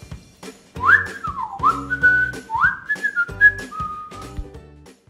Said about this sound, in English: Whistle while you wait.